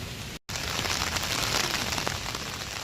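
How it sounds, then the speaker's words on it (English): Heavy rain pours down in Central Park, a dense, even hiss of drops hitting the ground that runs almost unbroken through the clip apart from one very brief dropout near the start. "This rain is just not good at all."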